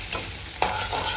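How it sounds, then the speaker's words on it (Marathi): Bitter gourd with masala being sautéed in hot oil, a steady close sizzle with the scrape of a spoon stirring and one sharper clack partway through. "आणि कारलं टाकून हे सगळं परत तेलात व्यवस्थित परतून घ्यायचं आहे"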